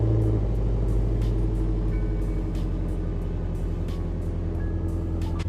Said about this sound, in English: we're gonna go ahead and get this cold start going